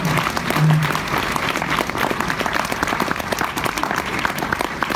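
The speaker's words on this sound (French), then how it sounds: "on les applaudit encore une fois" Enthusiastic audience clapping at a film premiere screening, dense and continuous for the whole stretch, fairly close, with a brief voice at the start.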